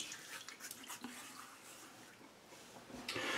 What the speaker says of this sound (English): let's wet the face and we'll get right to the shave